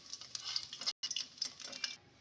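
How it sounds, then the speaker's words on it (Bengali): Chital fish fritters sizzle and crackle in hot oil, a soft continuous frying hiss with a brief stirring clatter and a short dropout midway. "কথা বলতে বলতে এদিকে আমার বড়াটা ভাজা হয়ে গেল।"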